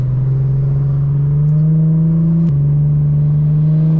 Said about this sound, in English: he trying to rev it